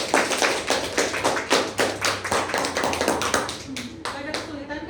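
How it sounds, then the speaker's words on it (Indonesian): A classroom group bursts into applause, many hands clapping in a dense, steady patter close by, gradually thinning toward the end. "Oke, tepuk tangan untuk kelompok."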